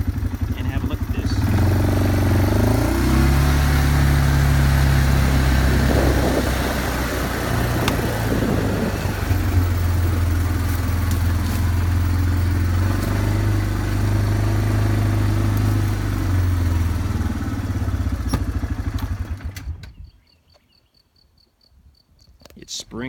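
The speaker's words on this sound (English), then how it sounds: "I'm just going to pull up a little bit and park the four-wheeler" A four-wheeler ATV engine runs loud and close in rural woodland in springtime, revving and idling with shifting pitch before cutting off near the end, with someone talking over it.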